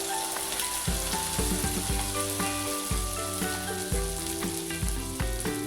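Sweet corn vadas fry in hot oil, a dense, continuous close sizzle with crackling pops throughout, steady and fairly loud with no talk over it.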